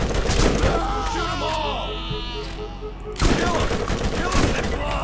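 Shotgun blasts in Borderlands ring out in loud, rapid bursts with a voice over part of the fire, then a pause before more shots crash in.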